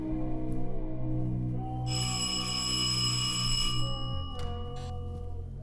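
A bell rings outside in the indie horror game From The Darkness, a bright sustained ringing tone rising over a low ambient drone, cutting off after about two seconds and followed by a fainter echo.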